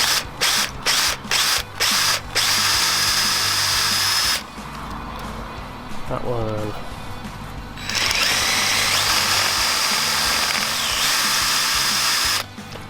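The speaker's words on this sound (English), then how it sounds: "I'm drilling them out so I can just pop the bracket off" A power drill whirs in several short bursts, then runs longer with steady grinding, close by, drilling out seized screws on a Honda CB250 motorcycle bracket; a brief spoken remark comes near the end.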